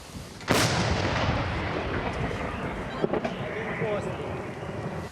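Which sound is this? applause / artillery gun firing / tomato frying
artillery gun firing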